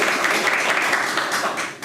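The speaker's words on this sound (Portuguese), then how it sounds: "Muito bem, palmas para o grupo." A group in a cooks' training class claps together, a dense, even patter of hands nearby for a couple of seconds that tapers off at the end.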